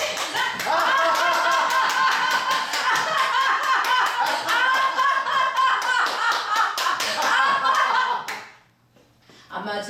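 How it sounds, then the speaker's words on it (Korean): A lecture-concert audience claps together at a leadership talk on laughter, producing dense, rapid, rhythmic hand claps mixed with voices and laughter for about eight seconds before stopping abruptly into near silence. "박수 한번 쳐보세요."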